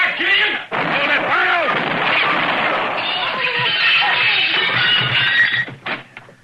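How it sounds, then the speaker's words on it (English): Gunfire cracks out in a Western radio drama, mixed with dramatic voices and shouting that run under and around the shots, loud and close throughout. "He tried to shoot Killian in the back."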